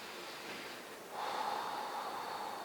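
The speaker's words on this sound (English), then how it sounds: "Take one more deep breath." A deep breath is taken during a yoga pose: a soft, airy inhale followed by a slightly stronger exhale, close and steady with no talking.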